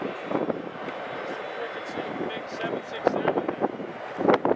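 A firefighting tanker plane lands at an airfield, heard as a distant, steady engine drone under gusty wind noise, while people talk nearby.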